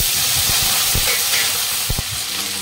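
Green chillies sizzling loudly in hot oil with garlic in a kadhai, a dense continuous hiss with a few low knocks and pops, close and alone.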